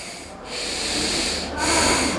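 A deep, forceful exhale through the nostril during a nasal breathing exercise, heard as a close, steady breathy rush with a brief pause before a second strong push of air.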